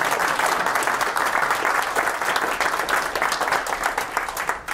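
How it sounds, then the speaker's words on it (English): A crowd at a talk about atheism applauds, a dense, loud and steady clapping that fills the whole few seconds. "Can I hear some applause for that?"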